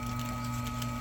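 A Vevor electric wire stripping machine runs on wire with a steady, close mechanical whir and a fixed motor drone, never letting up and with no talking.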